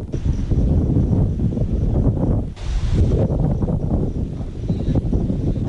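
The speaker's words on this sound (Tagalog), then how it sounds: "kasabay ang malakas na ihip ng hangin" Strong storm wind roars continuously through trees during a typhoon near the sea, gusting hard with rustling and buffeting, briefly easing once before surging again.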